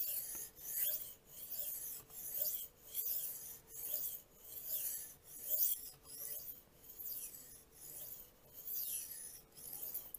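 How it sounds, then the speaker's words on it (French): A carbon-steel BPS Knives Savage bushcraft blade drawn across a Suehiro whetstone in steady, even strokes, each soft rasp repeating roughly once a second, quiet and close with no talking. "Donc là, on va commencer l'affûtage."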